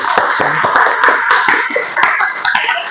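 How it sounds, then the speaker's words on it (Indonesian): A small class applauding a student, brief scattered hand claps with sharp irregular strikes over a short burst, fairly close. "Oke, aplaus untuk Mbak Pasadena"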